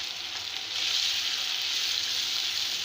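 Coriander and green chilli paste fries with ginger and garlic over medium heat for malai kabab gravy, giving a steady, loud, close hiss that swells slightly after a moment and holds throughout with no talking.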